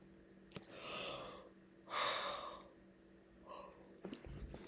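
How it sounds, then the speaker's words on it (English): A person stifles a yawn with closed-mouth breathy gasps and muffled exhales, quiet and close, spread over a few seconds with a faint hum behind. "I was trying so hard to swallow that yawn."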